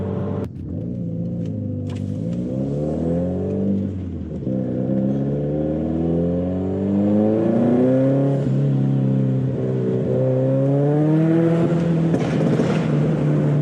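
A Subaru WRX STI engine revs hard and steadily, its pitch climbing and falling in long sweeps, with a loud, continuous exhaust rumble close by and some pops.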